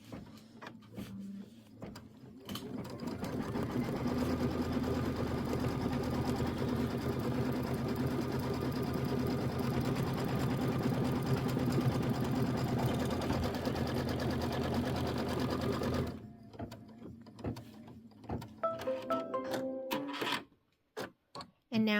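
An embroidery sewing machine stitches the orange tack-down outline on a Kimberbell mini quilt, a steady rapid whirring hum for about sixteen seconds, then stops, followed by scattered clicks and brief bursts as the machine pauses and restarts.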